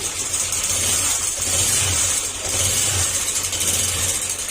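A motorcycle engine runs steadily with a rough, grinding drone underneath, as if something inside is being ground, close and continuous with slight surges, no talking.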